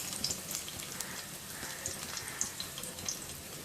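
Garlic fries in heated oil as a soft, steady sizzle with faint crackles and pops, quiet and continuous with no talking.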